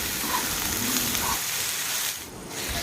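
Ridge gourd sizzling in a pan with salt and turmeric while being stirred, a continuous crackling fry close by with occasional scraping, dipping briefly near the end.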